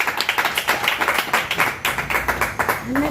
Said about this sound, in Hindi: जोरदार तालियों के साथ आप स्वागत कीजिए।